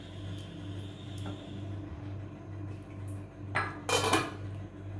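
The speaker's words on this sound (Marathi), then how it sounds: "फक्त एक 10-12 मिनटासाठी मी ही भाजी व्यवस्थित शिजू देत, म्हणून मी ठेवून देते झाकण लावून." A metal lid clatters onto a cooking pot of Malvani-style suran (elephant foot yam) bhaji, two brief bright clanks near the end over a steady kitchen hum.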